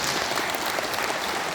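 Sustained applause from a crowd at a Parents' Day ceremony in a city hall auditorium, a dense steady patter of many hands clapping throughout with no voices on top.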